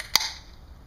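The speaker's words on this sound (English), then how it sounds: "Nice crack." A Colt 45 Double Malt beer can snaps open outdoors in hot weather, one sharp crack followed by a brief fizzing hiss that fades away quickly.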